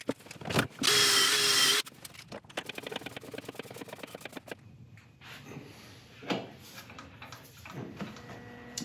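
A worm screw hole is drilled into a wood blank for lathe turning: a short, loud, high drill whine lasts about a second, then comes a rapid rattling run and scattered handling knocks and clatter.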